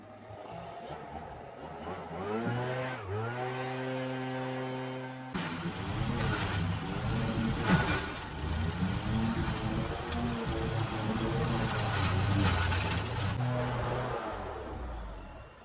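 A lawn mower engine cuts very low to the ground through an overgrown yard full of clumps and nasty root balls. A steady motor tone dips and strains early, then a rougher, fuller grinding roar continues to the end, with no talk.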